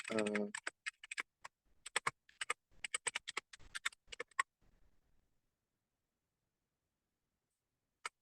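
Fingers tap out bursts of keystrokes on a computer keyboard, quick irregular clicks in short runs with pauses between, close and fairly quiet, after a brief voice at the start and with a lone click near the end.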